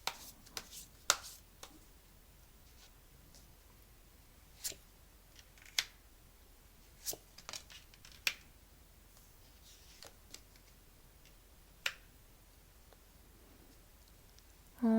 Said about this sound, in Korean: 카드 뽑아볼게요